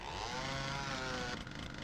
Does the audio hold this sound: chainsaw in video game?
yes